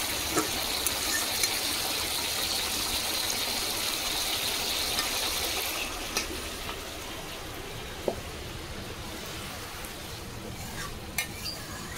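A cooked hilsa fish dish sizzles in the pan while being stirred and poured out, a steady close frying hiss with occasional utensil clinks and scrapes.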